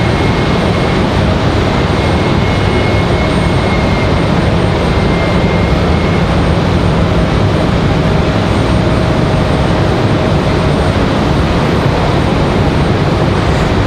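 Jet airliner noise at Raleigh-Durham airport, a loud, steady broadband roar that holds unbroken throughout, with no voices.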